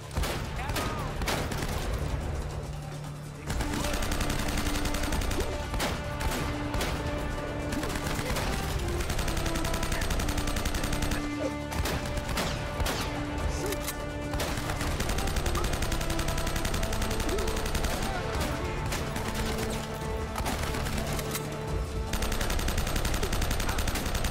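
Dense gunfire from several weapons, including rapid automatic bursts, keeps hammering at the player in Uncharted: Drake's Fortune, running steadily over game music and ambience with brief lulls.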